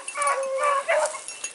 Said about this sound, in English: We've got seven dogs and two pups on the ground,